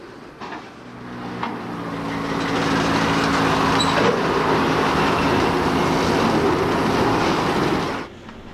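Locomotives at a rail yard in Waycross, Georgia, heard as a continuous heavy rumble and grinding roar that builds and holds steady before cutting off, with faint metallic clanks within.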